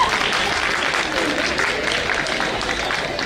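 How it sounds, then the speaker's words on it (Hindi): Audience applause welcoming a woman to the stage at an anchored Hindi stage event, a steady wash of clapping from a crowd filling the few seconds with no voice rising above it. "एक बार जोरदार ताली मैम के लिए।"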